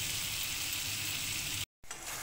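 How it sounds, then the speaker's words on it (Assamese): Pork sizzling and frying in a pan with a small splash of water, a steady dense hiss that holds close and loud without a break until a brief silent cut near the end, then resumes. "অকণমান অকণমান পানী দি পেলাই ভাজি আছোঁ।"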